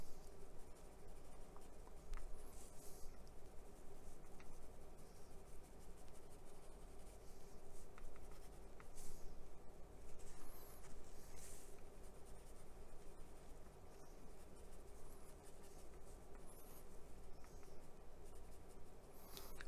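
Soft, continuous scratching of a wet AK weathering pencil moving over a surface, quiet and close, with faint rubbing strokes and no speech.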